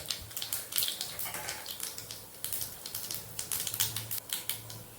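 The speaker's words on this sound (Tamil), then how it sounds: "கடுகு நல்லா பொரியட்டும்." Mustard seeds spluttering in hot oil, a dense run of quick, sharp crackles and pops bursting in irregular clusters, close and fairly quiet, with no talking.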